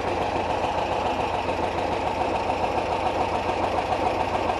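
An air-cooled flat-four engine in a Porsche 914 runs steadily at close range, a continuous even drone with a faint rhythmic knock and no talk over it.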